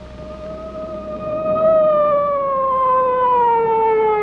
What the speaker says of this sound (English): Within minutes, an ambulance was on the scene.